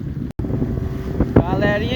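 Strong wind rushes and buffets the microphone aboard a fishing boat at sea in big waves, a loud continuous roar with a brief dropout, as someone talks over it.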